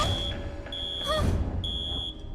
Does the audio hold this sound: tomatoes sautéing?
no